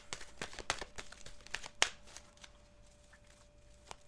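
Tarot cards being shuffled by hand, a quick sequence of crisp riffling snaps and soft slides, close and fairly quiet, with irregular bursts and short pauses and no speech.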